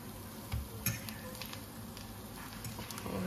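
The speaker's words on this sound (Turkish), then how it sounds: "Böyle milföyü tavada kızarttığınız zaman böyle çok güzel oluyor." Puff pastry fries in a pan with a steady, soft sizzle, and a few brief clinks of utensils sound close by with no talking.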